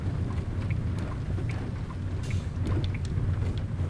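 Rain patters steadily on a truck in American Truck Simulator, a soft continuous hiss with scattered drop ticks over a low engine hum, no one speaking.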